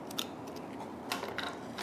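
Scissors are handled in a quiet room, giving a few faint, short metallic snips and clicks at irregular moments, with the last one slightly sharper than the rest.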